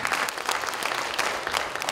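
Brief burst of audience applause at a theatre event for a puppet-making collaborator, energetic, dense clapping at close range.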